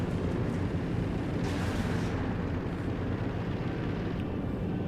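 An aircraft makes a strafing run over a village in the video game Company of Heroes 2, a loud, continuous roaring rush of engine and rumbling impacts that stays dense and steady throughout.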